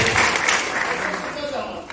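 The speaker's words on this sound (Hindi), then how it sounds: "So big hand of applause for sir" An audience in a Kota auditorium gives a quiz participant a burst of applause. The clapping is dense and steady and fills the whole two seconds.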